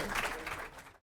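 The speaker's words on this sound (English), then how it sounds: "You can now applaud these great people" Audience applause at a Father of the Year awards luncheon: dense, steady clapping from a crowd, loud and close, cutting off abruptly at the end.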